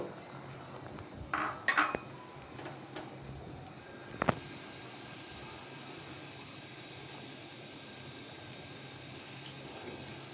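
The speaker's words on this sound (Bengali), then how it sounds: "এখন ডিমটা আমি একটু ভেজে নিব।" A beaten egg fries in a little oil while a spatula breaks it into chunks in the pan: a few sharp utensil clinks and scrapes early, then a quiet, steady low sizzle.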